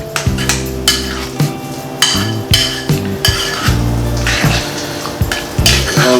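A spoon mixes mashed avocado for homemade chunky guacamole, giving repeated clinking and scraping strokes against a bowl over steady background music.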